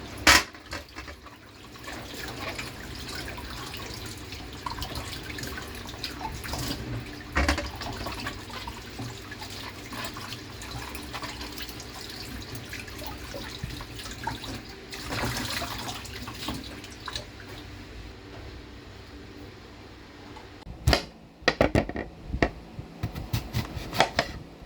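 Apple being washed under a running kitchen tap, water splashing and gurgling in uneven bursts with clunks and handling noises, moderately close.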